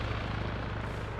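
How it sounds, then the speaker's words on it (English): A helicopter in the ARMA military video game, its steady low rotor thump holding at constant loudness throughout, close and continuous with no talk over it. "That wasn't a shooting, that was a helicopter."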